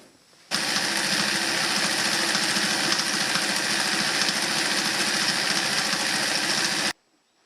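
A Singer 319W sewing machine running a decorative pattern stitch, a steady fast mechanical whir and rhythmic needle chatter starting abruptly, holding constant for about six seconds, then stopping cleanly.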